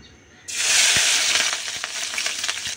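Crushed green chilli, garlic and onion hit hot soybean oil with a sudden loud burst of sizzling, then keep crackling and spitting close up.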